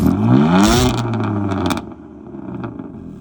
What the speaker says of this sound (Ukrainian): вихлопна система Акрапович дуже класно звучить